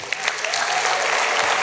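An audience applauds sponsor organizations at the College Football Playoff's 2025 Extra Yard Summit, a steady, dense wash of clapping from many hands that holds throughout.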